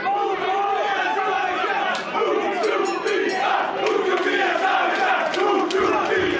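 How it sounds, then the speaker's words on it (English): A loud crowd cheers and shouts steadily at a K1-rules kickboxing main event, the roar sustained throughout with sharp whistles and yells rising above it and a commentator talking over the noise. "Crowd's going crazy."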